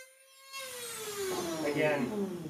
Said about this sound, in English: take the Dremel, clean it up that way